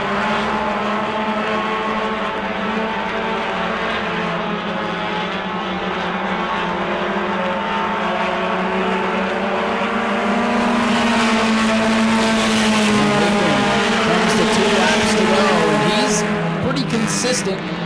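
Race cars lap the short track at New Smyrna during a heat race, their engines a steady, loud multi-car roar with rising and falling pitch as they pass and drive into the turn.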